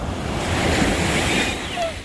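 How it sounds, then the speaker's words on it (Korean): Big ocean surf surging in at Haeundae beach, a dense steady wash of breaking waves with wind noise on the microphone, close and fairly loud. "야 파도가 엄청 몰려온다 그지?"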